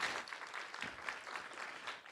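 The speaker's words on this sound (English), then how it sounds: "Nice round of applause for Nicky Fox." Crowd applause for Nicky Fox at NASA's Parker Solar Probe launch event, a brief burst of moderately loud clapping with uneven, rippling claps.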